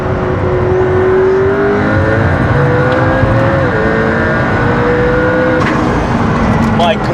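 A McLaren P1 with a twin turbo V8 hybrid system drives on a freeway, its engine and road noise loud and continuous from inside the cabin, with steady whirring tones shifting in pitch.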